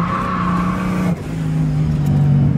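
A turbocharged drift car on a track holds a high, strained rev, then drops to a lower steady engine drone with tire noise, loud and close throughout.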